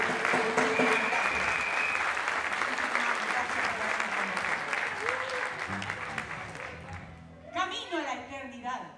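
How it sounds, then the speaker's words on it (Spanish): Sustained audience applause for the Sentir Femenino group and the municipal ballet at a Women's Day evening show, a dense crowd clapping for most of the stretch before fading into other sound near the end. "le renovamos el aplauso a Sentir Femenino y al ballet municipal"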